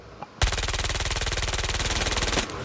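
Rapid automatic fire from a machine pistol in a Season 5 shooter game, a loud, steady two-second burst of evenly spaced shots that cuts off sharply.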